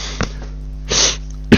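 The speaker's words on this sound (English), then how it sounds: "Oh no, the coughs." Several short coughs stand out against a steady low hum, with a brief burst, a longer rough cough and a final sharp one, close and fairly loud.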